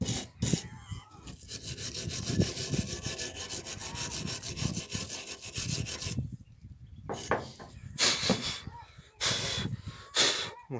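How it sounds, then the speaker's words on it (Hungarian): A Renault Thalia brake caliper is scrubbed with a brush and scraped with a screwdriver to shift grime, giving close, gritty rasping strokes in uneven bursts with short pauses between them. "ahova meg nem fér hozzá kefe, ott meg csavarhúzóval adok neki"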